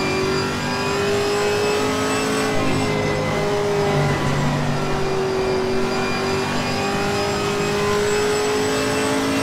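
A GT4 race car in Assetto Corsa Competizione accelerates with a steady, loud engine drone, its harmonic tones climbing and shifting through gears across the run, with no voices.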